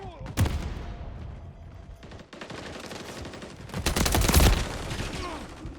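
Call of Duty MW3 gameplay gunfire: sharp, loud shots and rapid automatic bursts that swell into a dense volley near the end, with a voice faintly underneath.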